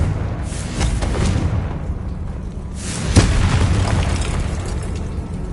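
Fiery Confringo spell blast in the video game Hogwarts Legacy, a loud booming burst with a sharp peak midway amid a rumbling low roar, no voices over it.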